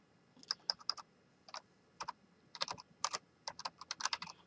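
Someone types on a computer keyboard to log in to a police report writing system, with quick bursts of close, crisp key clicks separated by short pauses.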